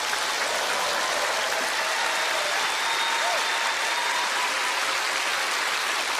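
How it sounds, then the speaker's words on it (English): Audience applause at a live magic show taping, a steady, dense wash of clapping hands filling the room for several seconds without a break. "I'm sure you will receive a thunderous round of applause."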